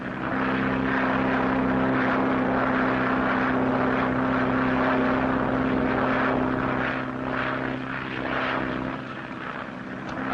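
A propeller airplane flying across the Atlantic produces a steady, loud engine drone with a strong low hum that holds throughout and eases only slightly near the end.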